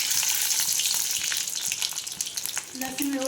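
Mustard seeds fry and sizzle in hot oil while cooking a summer vegetable dish, a steady crackling hiss with small pops close by, running continuously without talk.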